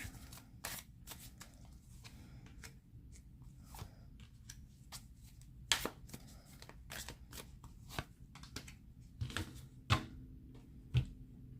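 Keeper oracle cards are shuffled during a Gemini tarot reading, producing repeated crisp riffling bursts and soft slaps, close and moderately quiet, with no talk over them.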